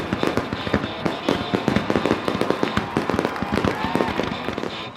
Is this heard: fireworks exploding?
yes